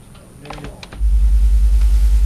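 After a few soft keyboard clicks, a loud low hum of combined 50 Hz and 60 Hz tones starts abruptly and pulses steadily in a regular wobbling beat.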